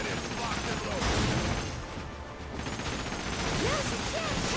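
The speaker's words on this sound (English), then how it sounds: "Cannons locked and loaded." Cannon fire in the video game Like a Dragon: Pirate Yakuza, heavy booming blasts and crashing explosions layered over a dense, loud battle din lasting the whole stretch.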